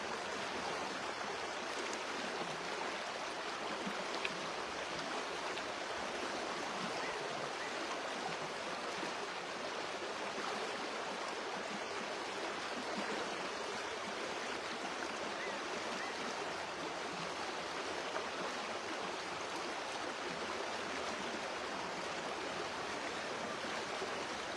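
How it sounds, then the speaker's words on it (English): A river flows in a steady, broadband rush of water, constant and unbroken from start to finish with no voices. "And just enjoy the sound of the river."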